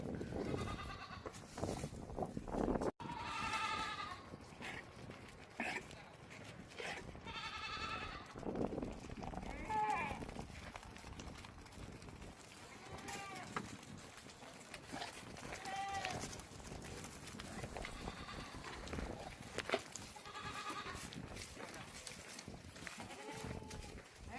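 Several goats bleat repeatedly at varying distances, overlapping calls rising and falling over a steady outdoor background, with some faint talk.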